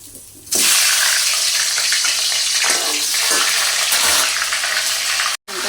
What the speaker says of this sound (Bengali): ভেজে নিচ্ছি আর ইলিশ মাছ ভাজি করছি।